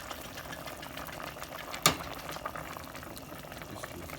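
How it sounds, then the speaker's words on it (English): Pot boiling on the stove while a Lao dinner cooks, a steady close bubbling and simmering with one sharp click partway through. "See it going boiling?"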